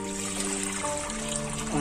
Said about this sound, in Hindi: पानी डालना है इसमें